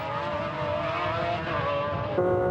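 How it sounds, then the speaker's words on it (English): A McLaren race car's engine screams at high revs in a steady, loud drone while it tucks in behind a Lotus and overtakes it, with a brief rise in pitch and level near the end. "He uses the superior power of the McLaren's engine to tuck in behind the Lotus, and then outbrakes it into the corner."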